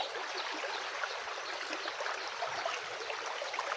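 Floodwater flows steadily through a flooded home garden, a continuous broadband rush and trickle close by with no pauses and no voices.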